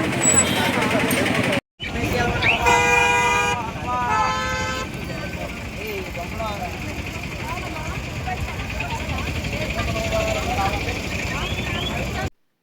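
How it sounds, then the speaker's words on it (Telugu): Dense road traffic at Chaparai near Paderu, with vehicle horns blaring in repeated bursts over engine rumble and crowd chatter. A person talks throughout. "ఖాళీ లేదు, మొత్తం ట్రాఫిక్."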